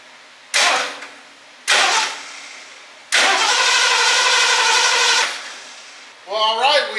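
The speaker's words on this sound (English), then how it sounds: "have a cranking engine" Starter cranking of a 1978 Lincoln Continental with a 460 big block V8, revived after being buried for 15 years: two short bursts of cranking, then a longer steady crank of about two seconds, close and loud, with a brief voice at the end.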